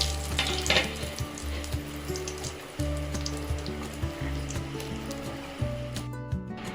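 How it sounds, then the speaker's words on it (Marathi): Bread vada sizzling as it fries in hot oil, a steady crackling bubble with occasional louder pops, close up and continuous with no voices. "आता इकडनं पण छान असा भाजून घेऊया, तळून घेऊया"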